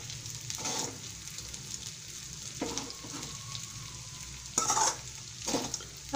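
Sabudana khichdi is stirred in a pan, with a soft ongoing sizzle and several scraping, clattering passes of a spoon against the metal, close by and without speech.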